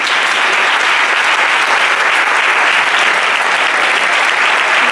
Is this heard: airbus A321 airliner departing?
no